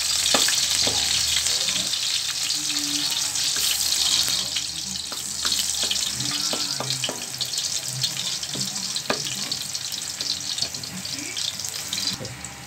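Crushed garlic sizzles steadily in hot oil in a pan, a close, continuous crackling fry with scattered pops and stirring scrapes throughout.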